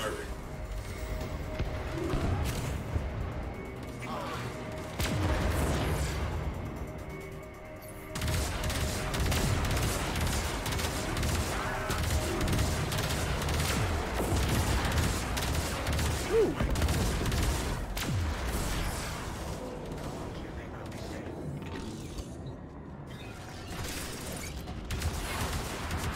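Railjack torpedoes and ship weapons fire at a capital ship in Warframe, a dense, continuous barrage of blasts and booms with mechanical clatter running throughout, with game voices over the top.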